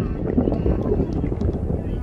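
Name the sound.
strong wind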